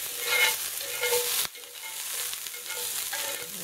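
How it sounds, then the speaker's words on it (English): A whole diced onion fries in oil in a hot pan, a steady close sizzle that briefly dips and then carries on, with no voices. "And to that we're going to add a whole diced onion. I'm going to sweat that down a bit."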